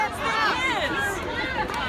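Outdoor protest crowd outside a Trump rally in Pittsburgh, a dense babble of many voices chattering continuously with no single speaker standing out.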